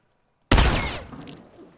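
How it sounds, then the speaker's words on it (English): A single shotgun blast in The Last of Us, a sharp loud crack followed by a decaying rumble, standing alone with no talk. "he's really trying to kill him with that that shotgun"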